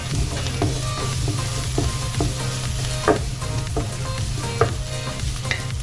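A pan of frying food sizzles loudly and continuously while a utensil scrapes and stirs in an irregular rhythm, close up, with no talking.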